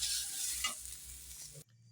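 Spices for dal fry in a pan while being stirred, making a continuous close sizzle with scraping strokes that cuts off abruptly near the end.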